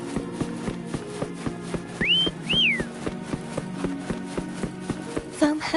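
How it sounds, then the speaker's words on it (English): A character in the game Wuthering Waves whistles to call a companion, two quick rising-and-falling whistle notes, clear and close, over steady footsteps and a low ambient music bed. "Try whistling."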